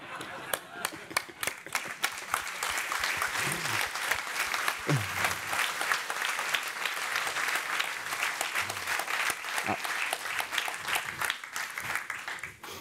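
An audience bursts into sustained applause at a talk about teaching children to code, dense steady clapping from many hands filling the room, with a few brief voices mixed in.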